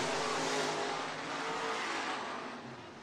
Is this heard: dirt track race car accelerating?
yes